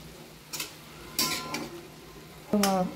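A spatula scrapes and stirs chopped dill greens with salt in a pan. A few short, separate scraping strokes and knocks come through clearly against a quiet background.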